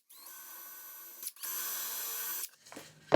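A power drill bores holes through drawer fronts held in a shop-made jig, two steady whining runs of about a second each with a brief gap between, followed by short clattering handling noises.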